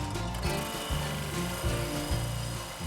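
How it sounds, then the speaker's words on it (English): A 6mm bowl gouge with a finely ground point cuts a small piece of wooden fruit spinning on a lathe, giving a steady, close, continuous rough scraping and humming with slight rhythmic swells and no talk. "So we're on a 6mm bowl gouge, and I've ground this to a really quite a fine point"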